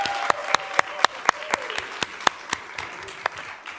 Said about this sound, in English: you guys could clap for that